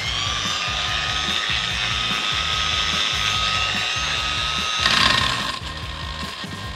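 A handheld grinder ports a Mitsubishi 4G63 cylinder head, a continuous high whine with a rhythmic pulsing grind as the bit works the ports, close and steady, briefly louder near the end.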